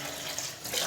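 Water poured into a pot for cooking rice in a home kitchen, a short, close, steady splashing gush like tap water, swelling slightly toward the end.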